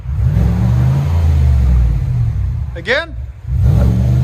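A 2020 Chevy Silverado High Country 6.2L V8 with Magnaflow dual exhaust rumbles deep and loud nearby, revving, easing off briefly while someone speaks, then climbing again.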